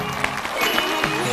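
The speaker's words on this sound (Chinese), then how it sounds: "让我们掌声欢迎。" A studio audience on a dating-show watch-along claps to welcome a guest, a brief, fairly loud burst of applause with a few cheering voices over it.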